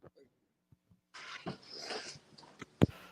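A pack of dogs whimpering and breathing nearby, soft whines and snuffles that come and go, with a voice talking at the start and near the end.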